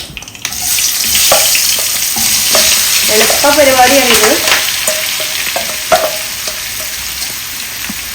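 Potatoes and onion coated with turmeric, salt, chilli powder and curry leaves hit hot coconut oil with a loud sizzle, then are stirred in a pan. Someone briefly speaks over the frying.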